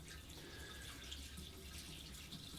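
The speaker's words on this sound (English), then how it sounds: "The tank will eventually fill up, and you'll need about 3 watering cans." Water pouring steadily from a watering can into an aquarium tank with washed gravel, a soft continuous splash and trickle heard alone, without pause.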